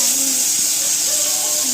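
A gas stove burner flame hisses steadily and loudly at close range, a broad airy rush that holds without a break over a faint voice.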